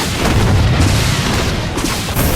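Siege Tank attack in a StarCraft 2 Terran versus Terran match, a loud rumbling barrage of booming blasts and bursts that fills the whole moment.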